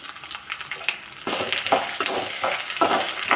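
Sliced shallots, dried red chilies and curry leaves sauté in hot oil for a Kerala banana-stem and lentil thoran, giving a steady close sizzle with a louder burst partway through and repeated stirring scrapes, no talk.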